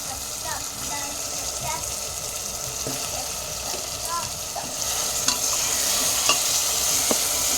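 Chicken pieces and pre-fried potatoes sautéing together in a pan for pressure-cooker chicken biryani, a steady close sizzle with scattered stirring scrapes and clinks, louder in the second half.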